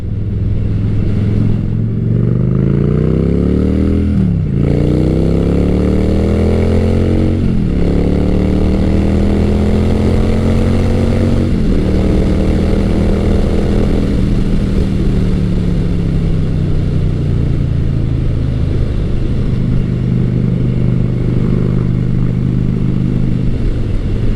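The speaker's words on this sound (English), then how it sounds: "It has that nice V-twin sound to it, and even when you're revving it out" A Honda Shadow Spirit 750 V-twin cruiser motorcycle is ridden with a loud, close engine, throttle rising and falling through repeated revs and gear changes, then settling into a steady drone at speed.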